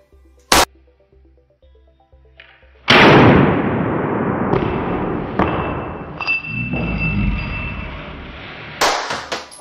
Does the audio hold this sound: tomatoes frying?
no